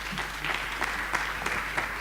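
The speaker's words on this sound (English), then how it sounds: "Can you give them a round of applause, please?" Audience applause at an International Women's Day dialogue event, a moderate, fairly steady patter of clapping from a modest crowd with a few sharper individual claps standing out, heard alone without speech.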